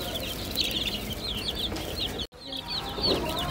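A flock of chickens keeps up steady, overlapping clucking close by, broken by a very short moment of silence partway through before the clucking resumes.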